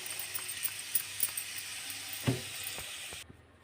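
Curry leaves, ginger and green chilli fry in hot oil as a pongal tempering, a steady close sizzle with occasional small pops and a spoon tap, and no talking, before cutting off near the end.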